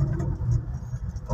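Road traffic heading northbound on EDSA near Santolan: a steady low engine rumble of cars, continuous and fairly loud, with no talk.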